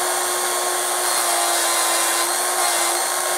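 A silver coin ring gets its outer beveled edge polished on a power tool, making a loud, continuous, harsh whirring buzz with a steady tone throughout and no talking.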